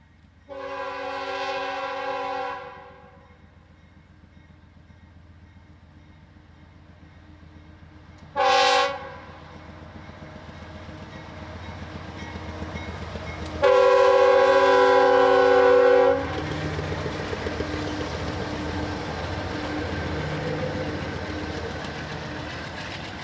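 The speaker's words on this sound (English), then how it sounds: "We find southbound manifest M252 departing the yard in Pittsburgh to traverse across the flat farmlands of Kansas and Missouri." CPKC southbound manifest freight train M252 pulls out of a Pittsburgh, Kansas yard, sounding loud multi-tone horn blasts: a long blast, a short one, then another long one, over a steady rumble of rolling cars and engines.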